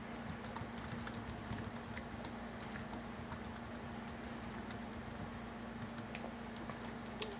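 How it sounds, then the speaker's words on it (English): Light typing on a keyboard while entering a phrase into a translator app; faint, scattered soft key taps over a steady low hum, quiet and close. "I can type whatever I want here."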